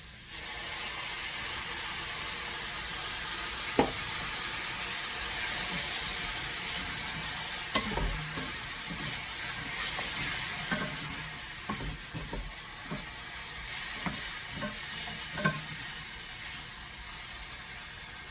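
Shrimp curry sizzling steadily in a pan after water is poured in, a soft constant hiss broken by occasional scrapes and clicks of stirring, faint and close.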